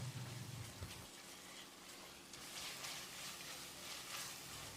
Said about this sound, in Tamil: இப்போ இதில் அரிசிக்கு தேவையான அளவு தண்ணி சேர்த்துக்கலாம்.